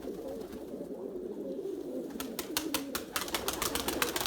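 Pet pigeons coo softly and repeatedly close by, low throaty calls running under a background hum, with a burst of sharp fluttering or flapping sounds in the second half.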